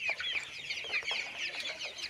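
Broiler chickens cluck and chatter together on a poultry farm, a dense overlapping flock murmur at moderate distance with no clear pauses and no speech.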